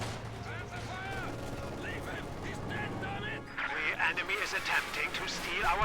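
Gunfire from the video game Company of Heroes 2 crackles in scattered bursts that grow denser toward the end, heard beneath a commentator's steady talk.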